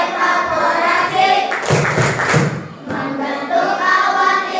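A classroom group performs the water-cycle clap chant, with steady rhythmic hand clapping mixed with voices, swelling into a louder burst of claps midway before settling back to a steady beat.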